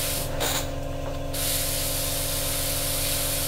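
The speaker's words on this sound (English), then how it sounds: "We're going to lightly spray this on." Paint sprays onto a Revell 1/48 Typhoon FGR4 scale model aircraft, giving a close, steady airbrush hiss that stutters briefly at the start and then runs continuously.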